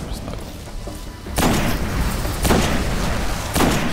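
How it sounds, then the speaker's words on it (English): Sniper rifle shots in the video game Destiny: three heavy booming blasts spaced about a second apart, each with a broad rumbling tail over continuous game background noise. "Let's see what my sniper can do."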